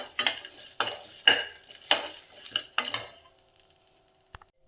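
Puffed rice with fried garlic, peanuts and peas being stirred in a pan, giving a series of about six scraping, rustling strokes roughly every half second, close and fairly loud, then fading to faint clinks.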